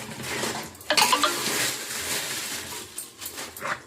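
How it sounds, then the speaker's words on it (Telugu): Raw chicken being washed in a bowl gives close, irregular clinks and knocks against the bowl, with a brief louder clatter partway through. "చికెన్ కడుక్కుంటున్నా శుభ్రంగా"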